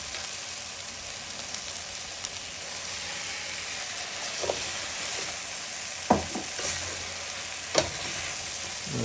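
Rice fries in a pan for a vegan risotto, a steady close sizzle broken by a few soft scrapes and knocks of stirring.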